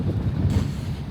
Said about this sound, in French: Il y a beaucoup de vent, j'espère que tu vas m'entendre.